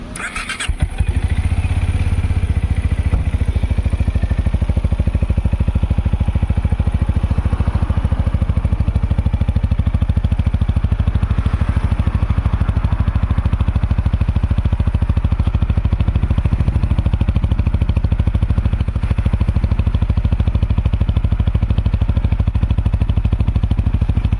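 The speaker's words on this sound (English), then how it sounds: "listening the stock exhaust sound for Benelli Imperiale 400" A 2020 Benelli Imperiale 400 motorcycle on its stock exhaust starts up and settles into a loud, steady, close-up idle with an even low thumping pulse that holds throughout.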